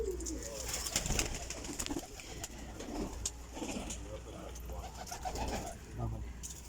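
Pigeons coo in a breeder's loft, low rolling calls rising and falling through a continuous hum and background noise, with faint voices mixed in.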